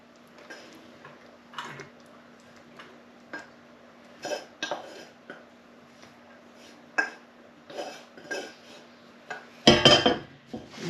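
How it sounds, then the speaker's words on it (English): Rice spooned into bowls for a beef kofta curry, with light scattered clinks and taps of a utensil against dishes, ending in a louder cluster of scraping clatter near the close; no talking. "Just going to put a big mound, well, a mound of rice in the bottom of the bowls."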